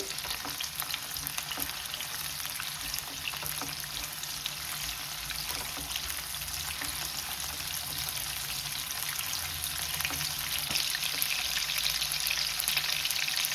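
Onions frying in hot mustard oil, a dense continuous sizzle and crackle close up, steady throughout with faint stirring scrapes underneath.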